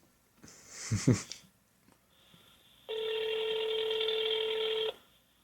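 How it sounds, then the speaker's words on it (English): A ringback tone sounds on a telephone line during a podcast call, a single steady electronic ring lasting about two seconds, preceded by a short burst of clicking. "That means it's ringing."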